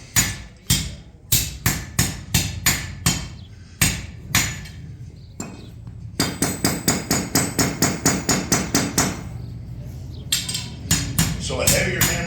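A hammer strikes a metal bar being forged into a Dutch oven lid lifter: sharp, ringing metallic blows in a steady rhythm, some single and spaced, others in rapid runs, loud and close.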